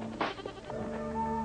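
A single goat bleats once near the start, a short wavering cry followed by fainter bleat-like tones, heard close and alone without speech.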